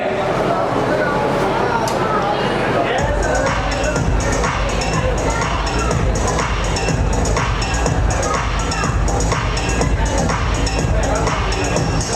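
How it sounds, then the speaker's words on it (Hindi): An audience at an award ceremony bursts into applause and cheering after about three seconds, sustained dense clapping under a loud amplified announcer's voice. "तालियां एक बार फिर से बजाइए जोरदार।"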